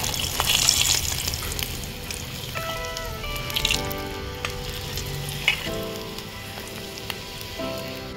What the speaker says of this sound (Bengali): ভালো করে ভেজে নিয়েছি, সেটা তুলে নেব।